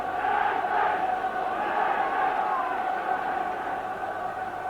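Evening football crowd at a 1985 UEFA Cup tie, Dundee United against Vardar, a steady distant roar of cheering and chanting support filling the stadium, continuous and fairly even in level.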